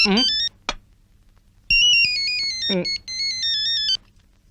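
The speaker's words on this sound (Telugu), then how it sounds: "ఫోన్." A phone ringtone plays a repeating electronic melody in bursts, interrupted by brief voice sounds between the rings.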